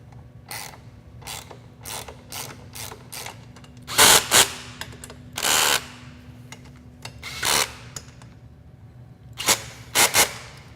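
Bursts from a power tool tensioning the pinch bolts and front axle on a Timbersled snow bike, several short whirring runs and a few louder, longer ones spaced over a steady low hum, with no talk.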